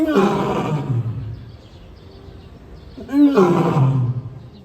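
A caged lion in a zoo lets out two loud, close, drawn-out roars, the first trailing into a long groan and the second following after a short pause.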